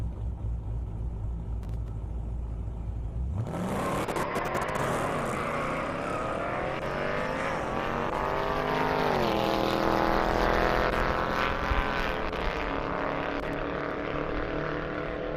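A Jeep Trackhawk and a Corvette launch side by side on a half-mile airport strip. A sudden loud roar of revving engines swells and then holds as a sustained rising drone that carries on for seconds.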